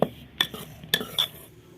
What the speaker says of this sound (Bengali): এবার চিনি দিলাম চিনি মিশিয়ে নিই